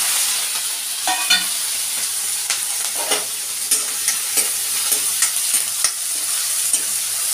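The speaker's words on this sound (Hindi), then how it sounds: "तो तेल भी गर्म हो गया है, और अभी मछली को डाल देते हैं।" Fish frying in hot oil in a kadhai for a village-style fish curry, with a steady bright sizzle and scattered scraping and clinking stirring strokes throughout, close and fairly loud, with no talk.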